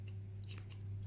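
A few quick snips as scissors cut crochet yarn for a pom pom scarf, soft and close over a steady low electrical hum.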